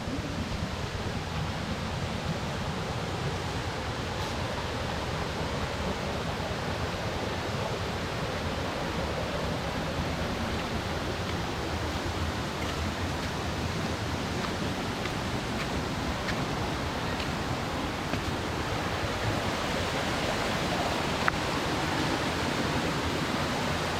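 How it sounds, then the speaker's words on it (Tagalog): Steady, dense roar of falling water, broadband and constant throughout with no voices, like standing near a waterfall. "Narinig nyo na siguro na falls ang pupuntahan natin?"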